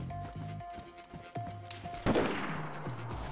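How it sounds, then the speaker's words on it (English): Gunfire in the DayZ survival game around a mountain stronghold, including a sniper: a few sharp shots with a louder crack near the end, rolling echo behind, over a steady background hum, no talking. "The sniper almost hit me."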